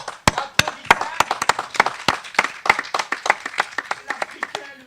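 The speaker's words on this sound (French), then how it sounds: "tandis que les invités applaudissaient." Guests applaud in a fairy-tale setting: a burst of brisk, irregular hand claps, fairly close and steady throughout, with no voices over them.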